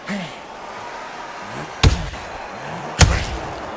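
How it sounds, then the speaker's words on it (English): Counter punches landing in a boxing video game, two sharp, heavy impacts about a second apart, loud and punchy over a steady low crowd-like background. "That counter shot lands."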